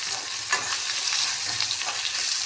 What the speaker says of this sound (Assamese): 1 মিনিটমান মই ভাজি ল'ম